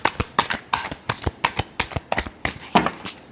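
Tarot cards being shuffled close up in a quiet room, a rapid run of crisp riffling bursts about every quarter second, with no talking.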